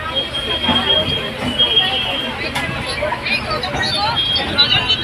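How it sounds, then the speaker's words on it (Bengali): A nearly empty passenger train carries a rider through the Kolkata area toward Bandel. A steady broadband rumble of wheels and carriage fills the interior, with faint murmuring voices and a thin high squeal running throughout. "চলো এখন এই ট্রেনে উঠে পড়েছি যাচ্ছি ফাঁকায় ফাঁকায় যাচ্ছি"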